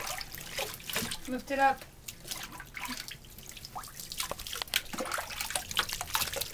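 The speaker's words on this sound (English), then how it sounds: "rinsed him with the hose" A hose sprays and splashes water over a wet Sheltie during a bath, a continuous rushing trickle broken by drips, while people talk nearby.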